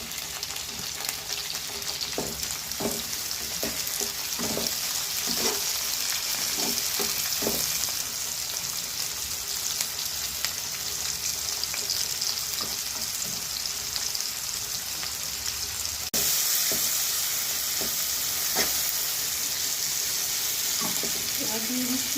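Chopped tomatoes and green chilies hit hot oil in a pan while cooking a fish-egg pointed gourd and potato curry: a steady loud sizzle with stirring knocks and scrapes, intensifying sharply later, with occasional speech under it.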